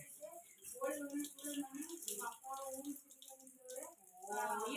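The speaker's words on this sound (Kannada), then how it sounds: "ನೀರು ಬಿಟ್ಕೊಂಡು ಈ ಥರ ತೊಳೆದು ನೋಡಿ ಒಂದೊಂದೇ ಪೀಸ್ನಾಗ ಒಳಗಡೆ ಹಾಕಿದ್ದಾರೆ" Tap water runs steadily while pieces are rinsed one by one and placed inside a container, the splashing continuous and fairly close under a busy, harmonic background.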